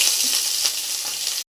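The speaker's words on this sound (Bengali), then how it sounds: "ভেজে নেবো, একটু হলুদ দেবো, দিয়ে ভেজে নিচ্ছি" Prawns frying in a pan with turmeric, a bright continuous sizzle up close with slight surges from stirring, cutting off abruptly at the end.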